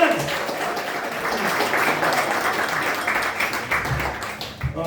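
Comedy club audience applauding and cheering to welcome a comic to the stage, a dense, sustained round of clapping at steady loudness that carries through the whole stretch.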